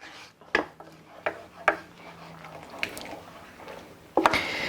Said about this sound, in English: And now let's mix this all up here.